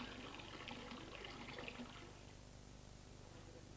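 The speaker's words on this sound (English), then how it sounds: "The soil is put into a big tank of water. It's called a flotation tank" Water runs and sloshes faintly in a large archaeological flotation tank used to sift soil from an excavated pit, a steady low wash with soft bubbling that eases off partway through.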